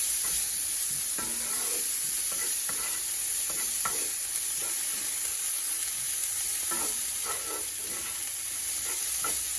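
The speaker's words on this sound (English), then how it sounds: "I'm going to start cooking my medium diced cup of onions" Medium-diced onions cooking in a tablespoon of butter in a pan, a constant gentle sizzle punctuated by repeated scraping and tapping stirs at close range, no one speaking.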